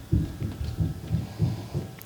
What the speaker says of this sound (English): Your daughter's running around upstairs.